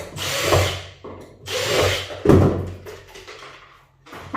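A power drill that was bodged together, working on wood while lifting a floorboard, whirs in three loud close bursts with a sharp knock between them.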